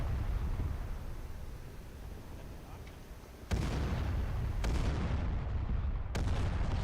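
Gunfire in the video game Arma 3, three heavy booming shots spaced about a second apart after a stretch of low rumbling ambience, loud and close.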